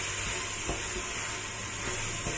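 Vegetables sautéing in a pot for a vegetable-rich lentil soup, a dense continuous sizzle with faint stirring scrapes throughout.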